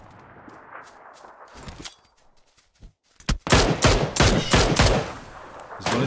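Heavy gunfire from the battle royale PUBG Lite, quiet at first and then a loud run of rapid, dense shots filling the second half, alone with no voices.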